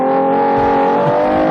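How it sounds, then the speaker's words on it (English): Car engine revving loud and close, a strong droning tone that swells slightly as the revs climb. "They're just revving her up."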